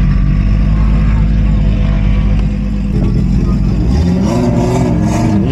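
A Nissan 240 accelerates hard on a track run, its engine roaring loud and close, then rising in pitch through the revs, with voices heard over it.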